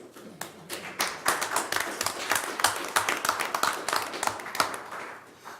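A small town-meeting audience claps for local citizens, a near, moderately loud burst of individual hand claps that builds quickly and continues unevenly for several seconds.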